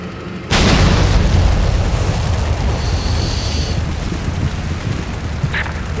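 Artillery shells bursting in the Steel Beasts tank simulator game: a loud, sudden boom erupts and rolls into a sustained, rumbling roar of impacts and debris that fills the remaining seconds without speech.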